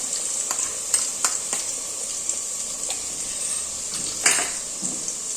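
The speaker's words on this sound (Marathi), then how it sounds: "मसाला आपला चांगला परतून घ्या" Ginger garlic paste and homemade masala frying in a pan, a continuous close sizzle broken by repeated scraping and clinking stirs of a spoon against the pan.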